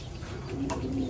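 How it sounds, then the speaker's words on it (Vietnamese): A Thai Titan meat pigeon coos softly, a short low throaty murmur heard close up over a faint background hum. "bồ câu Titan siêu thịt của Thái nó cũng là dòng to nha"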